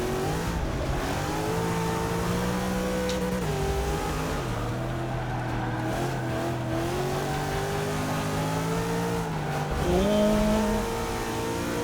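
Race car lapping a track in Forza 6, its engine droning loud and steady, pitch climbing through the gears and dropping on shifts and braking, with a faint tire squeal along the way.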